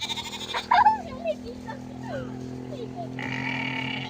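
Goats and sheep bleat in a loose group, several short and loud cries at the start followed by quieter calls, with a voice talking over the animals.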